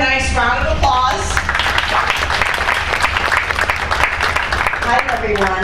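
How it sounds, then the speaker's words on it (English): An audience at a vegan cooking class aboard a cruise ship breaks into a round of applause, dense clapping sustained throughout, with some voices and tonal sounds at the start and end. "let's give her a nice round of applause"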